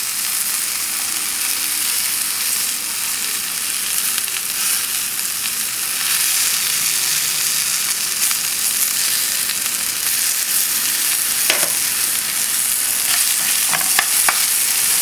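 Wasabi-seasoned bite-size beef tips fry in a pan with a steady, loud sizzle and the occasional stir, with no talking over it.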